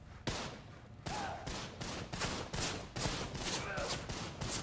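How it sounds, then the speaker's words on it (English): Enemies trading rapid automatic gunfire with each other in the shooter Trepang2, dense bursts of loud overlapping shots in quick succession, fairly close and continuous with brief gaps. "They're shooting at each other?"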